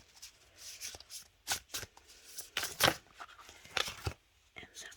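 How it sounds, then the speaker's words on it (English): Oracle cards are shuffled and pulled from the deck nearby: soft, irregular papery flicks and slides, some sharper snaps, with quiet gaps and no talk. "Let me pull more cards and that'll be clear with the message after that."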